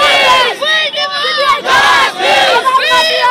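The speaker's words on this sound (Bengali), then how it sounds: "তারা স্লোগান দিচ্ছেন, তারাই এখানে স্লোগান দিচ্ছেন" A crowd of protesters at a junior doctors' demonstration chants slogans in loud, rhythmic, unison bursts, voices rising and falling in repeated waves close by.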